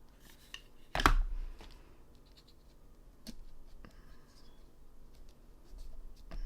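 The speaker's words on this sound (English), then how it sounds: "I'm going to go ahead and trim this one a little bit, just so it doesn't come out the bottom" Scissors trimming a paper stencil piece during papercraft: one sharp close snip, then faint scattered scratches and small handling clicks in a quiet room.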